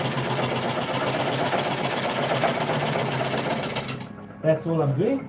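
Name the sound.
lathe running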